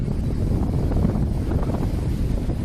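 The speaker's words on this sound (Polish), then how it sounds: "Jezu, jaki wiatr!" Strong coastal wind on the tip of the Hel Peninsula, Poland, buffets the microphone in a constant low roar, loud and steady throughout with no pause.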